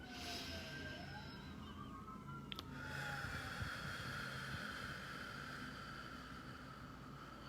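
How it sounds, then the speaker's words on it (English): Emergency sirens wail faintly outside, a distant rising and falling tone heard through walls against a low background hum. "you can hear the sirens."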